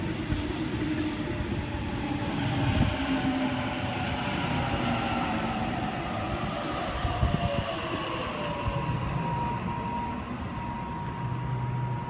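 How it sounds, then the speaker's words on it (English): A Sydney Waratah electric train pulls into platform 3 at Denistone station, a steady loud rumble and rolling wheel noise with rising tonal motor whine that runs throughout, with no voices. "We have a Waratah arriving onto platform 3."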